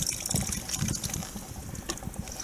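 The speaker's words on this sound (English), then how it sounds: "Just empty some water over here." Water is emptied out over a rocky crevice while prospecting for gold at Doctor's Rocks, Tasmania, a close, brief splashing trickle and pour over stone, fairly faint, with no talk over it.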